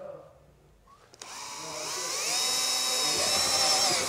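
A power drill starts up after a quiet moment and runs steadily, its high whine rising and holding loud as it bores 12 mm holes for a front bar on a Dacia Duster II.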